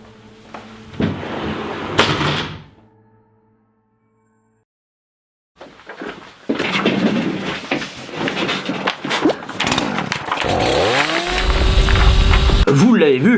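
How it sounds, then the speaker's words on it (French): A chainsaw roars in as a cutting sound effect, loud and continuous with a rising, revving whine after a short silence, with clattering and impact noises mixed in. "Et pourquoi une tronçonneuse me direz-vous?"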